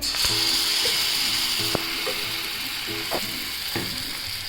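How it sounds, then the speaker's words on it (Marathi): Gram flour batter sizzles steadily on a hot oiled griddle, a constant close frying hiss with a few soft scraping clicks. "आता बेसन टाकून घेते तव्यावर"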